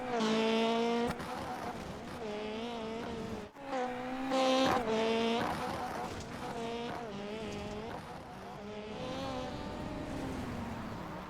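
Sim racing cars in an esports race at Wild West Motorsports Park and Irwindale Speedway whine and shift pitch repeatedly, with revving rises and drops and a brief squeal of tires, fairly loud and continuous.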